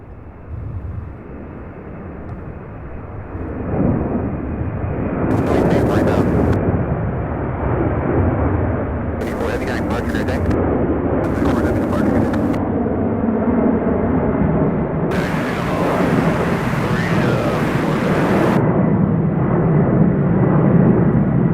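A UPS heavy freighter departing SDF airport in Louisville produces a loud, sustained jet roar that swells after a few seconds and holds as a deep, broad rumble throughout.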